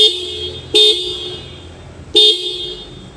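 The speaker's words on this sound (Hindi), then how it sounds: "हॉर्न भी चलना चालू हो गया।" A Honda Activa 3G scooter horn sounds twice, two short loud beeps about a second and a half apart, close by with no talking.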